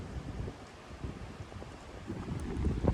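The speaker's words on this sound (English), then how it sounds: "Especially when it's fucking windy like this" Gusty wind roars across a microphone on a wooded hill prairie at Fults Hill Prairie, Illinois, a steady low rumble with rising buffets and rustling, swelling louder toward the end.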